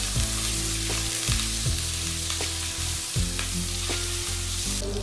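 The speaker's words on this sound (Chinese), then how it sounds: "把五花肉煸炒出油。" Pork belly stir-fries in oil in a wok, sizzling loudly and steadily while a spatula scrapes and tosses it with repeated clanks. No talk.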